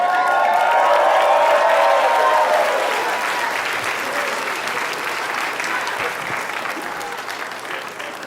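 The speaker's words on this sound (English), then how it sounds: "What are we clapping for?" A comedy club audience claps and cheers loudly. The applause peaks early, then thins to scattered clapping and crowd noise over several seconds.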